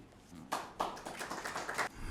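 Faint, scattered claps from the audience at a Pakistan Independence Day mushaira, a handful of separate hand claps at uneven intervals in a quiet room.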